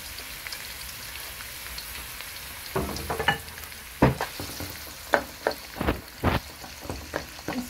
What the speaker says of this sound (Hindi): ऑयल गर्म हो गया अब हम प्याज डालते हैं